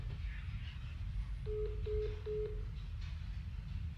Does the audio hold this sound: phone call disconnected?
yes